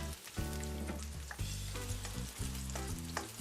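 Chopped red onion sautéing in hot cooking oil for an adobo, a loud close sizzle and crackle that surges several times as the pieces are stirred, with no talking.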